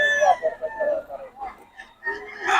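Local banded stag gamecocks crow, drawn-out calls sounding one after another near at hand, with someone talking at moderate volume over them.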